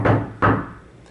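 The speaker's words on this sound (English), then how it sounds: "I would knock on the door using a friendly knock." A friendly knock on the front door of a house: two loud, close wooden knocks about half a second apart, each fading quickly.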